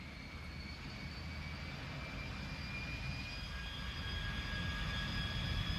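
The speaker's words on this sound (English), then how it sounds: "It was the Lockheed YF-12, a high-speed, high-altitude aircraft" A Lockheed YF-12 high-speed, high-altitude jet roars steadily in flight, a broad, constant engine rumble with a faint high whine, no speech over it.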